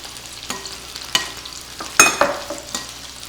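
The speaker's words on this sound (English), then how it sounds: "we're going to stir that up real good so it combines" A spoon stirs Worcestershire sauce and Coca-Cola together in a pan, giving a few scraping, sloshing strokes with a sharper clatter near the end over a faint background hiss.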